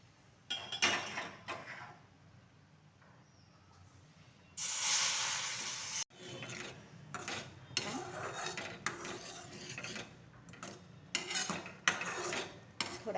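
A loud hiss and sizzle bursts out as hot water is poured into semolina roasting in the pan for sheera, between scraping and clinking of utensils.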